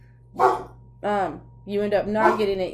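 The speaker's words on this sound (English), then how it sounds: "Sorry about my dog." A dog indoors gives several separate barks and yips, close and fairly loud, over a steady low hum while a person speaks.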